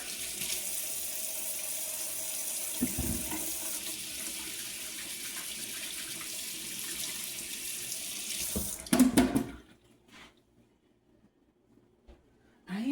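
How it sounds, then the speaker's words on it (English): Hands being washed under a running kitchen tap at a sink, steady close water flow with splashing changes for about nine seconds, then the faucet shuts off into near silence before a brief noise at the end. "let me wash my hands real quick"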